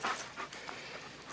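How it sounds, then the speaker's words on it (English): A pet dog named Mauser panting in short, soft breathy bursts, close by and fairly quiet, with no talking over it. "That's my dog Mauser"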